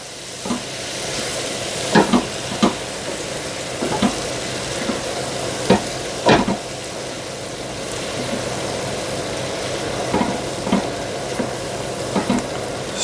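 A spoon stirs a vegan soymilk bechamel in a pan over a low, steady sizzle, with a series of distinct scraping knocks spaced irregularly.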